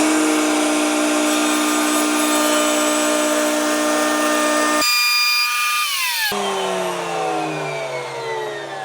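A router table bit cuts wood to widen a dado, a loud high-pitched motor whine that drops sharply into a brief lower cut, then spins back up and winds down, with no talking.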